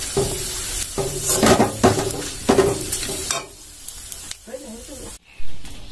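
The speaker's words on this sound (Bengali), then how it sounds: "এবার আমি মশলাটার মধ্যে দিয়ে একবার ফুটিয়ে নেব, তাহলেই হয়ে যাবে" Spice tempering being stirred into cooked khichuri in a pot, with a loud sizzle and spoon scrapes in the first half, then quieter bubbling and a few clinks near the end.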